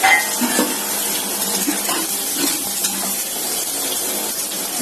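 Water poured into a simmering fish and cauliflower-pea gravy in a home kitchen gives a steady hiss and sizzle with light splashing. The bubbling continues close and even throughout.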